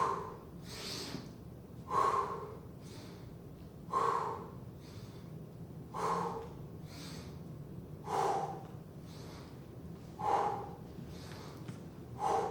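Heavy, rhythmic breathing during a push-up set in a HIIT workout, sharp forceful exhales and gasps repeating about every two seconds, close and fairly quiet, with no talking.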